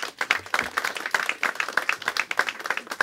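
A church congregation claps for an evangelist coming forward, brisk, close, uneven clapping from a modest group with sharp individual hand strikes standing out.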